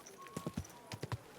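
Horse hooves clip-clop on a town street in Kingdom Come: Deliverance II, two quick bursts of three steady hoofbeats each, close and clear over quiet ambience.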